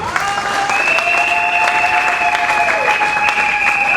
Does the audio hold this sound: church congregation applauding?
yes